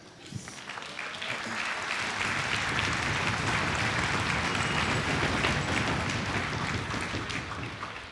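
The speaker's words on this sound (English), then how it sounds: "Please give yourselves a round of applause." A crowd applauds at the Sitka Kaagwaantaan Dancers' Celebration 2004 gathering, building quickly from a few claps into loud, dense, sustained clapping that fills the hall evenly to the end.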